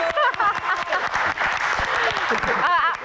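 Audience applause and cheering greet guests on a Lady Rocker talk show, the clapping rippling steadily under overlapping voices and excited calls.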